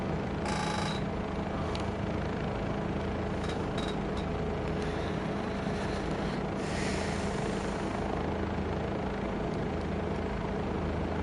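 Bell 407 helicopter in Microsoft Flight Simulator 2024, a steady, loud rotor and turbine drone that runs unbroken throughout, with faint high clicks and hisses scattered over the top.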